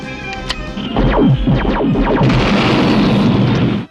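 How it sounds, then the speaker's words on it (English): Rapid bursts from an M61 Vulcan cannon on a G.I. Joe Skystriker XP-14F jet, a dense, loud, sustained roar of firing with sweeping whooshes and booms, no talking. "Another imaginary feature was the M61 Vulcan cannon."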